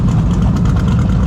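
Car engine idling at a street racing event, a loud, close, rough low rumble with a steady pulsing beat.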